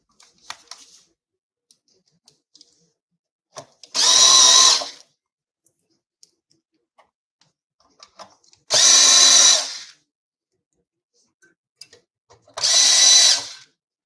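Three separate bursts of a cordless drill driver whirring while working on a guitar amp, each lasting about a second, with quiet pauses and small handling clicks between them.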